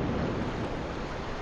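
Waterfall water in Sekiro: Shadows Die Twice rushes as a steady, dense broadband roar, close and continuous, with no one talking.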